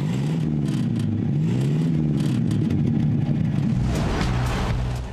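A 3.8-liter V8 car engine runs loud and close in a steady, droning rumble whose pitch gently rises and falls, turning rougher and more forceful toward the end.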